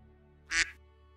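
A person imitates a duck with a single short, bright quack in a quiet room, apparently during a tabletop game session; it's brief and fairly loud against near silence.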